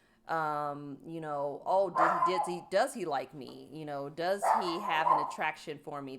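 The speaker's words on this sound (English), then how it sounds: "That's our dog Bonnie, by the way." Bonnie the dog gives repeated yips, whimpers and barks close by indoors, mixed in with a person talking over them throughout.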